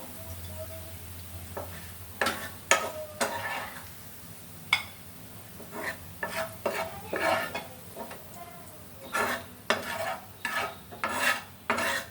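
Fried onions in a pan are stirred and scooped with a metal spatula, giving a series of close scraping strokes and clinks over a soft sizzle, with occasional quiet talk.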